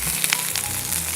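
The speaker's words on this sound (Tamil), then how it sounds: "குடமிளகா போட்டு வதக்குங்க." Steady, close sizzling of capsicum sautéing in a hot pan, a continuous crackling hiss with no voices.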